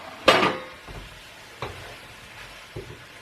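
Finely chopped garlic and mushrooms in a spring vegetable stir-fry pan, heard as a few separate bursts of sizzling and stirring scrapes over a low background hiss, the first burst loudest, with no talking.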